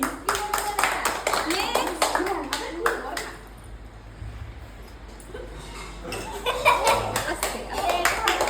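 A small group claps loudly for Ishita in an indoor class with children, with a run of sharp claps at the start and again near the end around a quieter spoken pause, light laughter mixed in.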